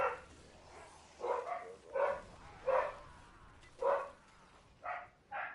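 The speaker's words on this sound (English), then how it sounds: "sorry if you hear my dogs, by the way" Dogs barking: a husky and sheepdog mix, a German Spitz, and a greyhound and Labrador mix, giving about seven separate barks in loose bursts, moderately loud from a short distance, with no talk over them.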